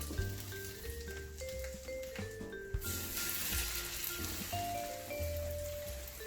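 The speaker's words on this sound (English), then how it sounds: "Do you hear that sizzle?" French toast sizzles in a buttered pan, a steady crackling hiss under soft background music, continuous and close.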